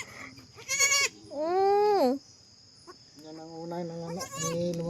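A goat that has just given birth bleats several times, loud and close, with wavering cries spaced across the clip and quiet farm ambience between them.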